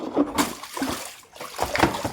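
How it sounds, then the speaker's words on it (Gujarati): Water pours and splashes into a household container at close range, in uneven bursts of gushing and splattering with a short lull in the middle. "હવે મારું પાણી આવી ગયું છે, હવે પાણી ભરું"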